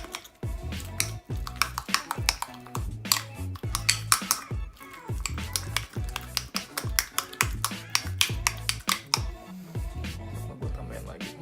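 A spoon or whisk rapidly beats mashed avocado with sweetened condensed milk in a bowl, producing quick, repeated clinks and scrapes in an uneven rhythm, close and fairly loud.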